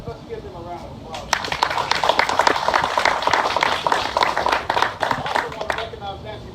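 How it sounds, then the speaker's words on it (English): An audience at a Georgia state officials' mask tour stop in Augusta breaks into applause, a dense patter of clapping that swells and runs for several seconds while a voice talks faintly beneath it. "Let's give them a round of applause."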